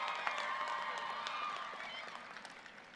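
A university commencement crowd claps and cheers in a large hall, a dense steady wash of applause that slowly thins out toward the end.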